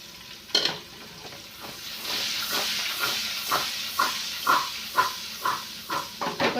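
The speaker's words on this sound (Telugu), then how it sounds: "కొంచెం ఫ్రై అయ్యేదాకా కలుపుతూనే ఉండాలి" Tempering spices fry in a pan under a steady sizzle, with regular scraping stirs in a close, even rhythm that quickens toward the end.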